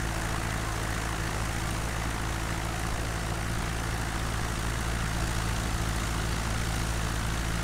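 A light airplane's engine drones steadily during flight at 2500 feet, a loud, constant propeller hum with a low rumble filling the cabin without pause, with no talking.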